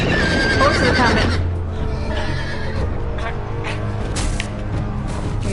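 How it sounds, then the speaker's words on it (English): Horses in the Telltale Game of Thrones video game neigh shrilly up close and gallop with rapid clip-clop hooves, loud and continuous, amid game sound effects. "Horses are coming."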